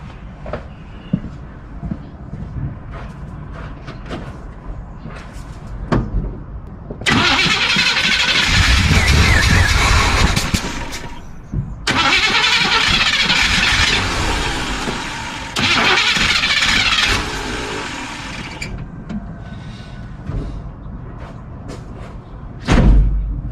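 The engine of a 1976 Chevy Cheyenne 4x4 cranks loudly in three long, close bursts, straining and sputtering as it tries to start. Quieter pauses between the attempts carry thumps and handling noise.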